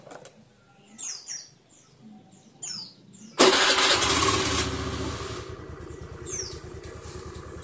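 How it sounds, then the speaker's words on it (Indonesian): A Honda BEAT FI scooter engine cranks and catches after a few quiet starter attempts, then settles into a steady idle close by, with birds chirping in the background. "Okay, sekarang kita coba hidupin motornya."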